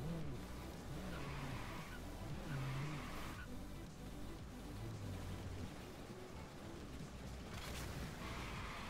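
A Koenigsegg hypercar races in reverse at very high speed in Forza Horizon 3's Hot Wheels expansion, its engine droning steadily while tires squeal and skid throughout at moderate volume.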